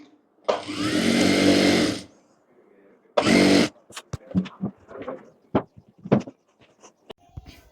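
A sewing machine stitches extra fabric onto a ladies' night suit: one long motor run, then a shorter burst, followed by scattered handling clicks and taps.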